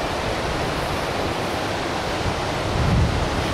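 A mountain stream flows at altitude in a village valley, producing a steady, dense rush of water that stays loud and unbroken throughout, with no voices.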